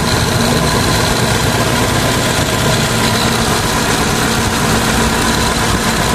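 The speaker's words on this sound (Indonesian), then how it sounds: "Mesin masih halus suaranya." A 2015 Mitsubishi Colt T120SS pickup engine idles steadily, rumbling continuously, low and even with a constant vibration, close by and with no voices over it.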